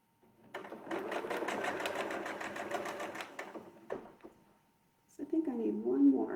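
A sewing machine quilts with a ruler guide in a steady, fast run of stitches lasting about three seconds, then stops briefly before a short burst of nearby speech.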